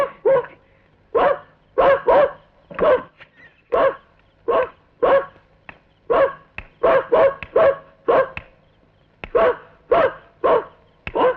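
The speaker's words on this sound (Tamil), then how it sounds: "அதான் மணி கொலைச்சிருக்கு" A dog barks repeatedly in close, loud bursts, some single and some in quick doubles, with short gaps between them and no talk over them.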